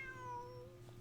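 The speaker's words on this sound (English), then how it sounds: "Bonnie is Pierre's cat" A cat in a video game lets out a single drawn-out meow that falls in pitch, clear and close over a low steady background hum, ending with a brief faint click.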